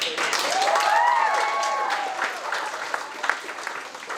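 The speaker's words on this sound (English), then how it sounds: "So just a round of applause for them too." An audience at a social club event showcase claps in thanks to the event management staff, steady applause with a loud whistle early on, easing into lighter scattered claps and some voices.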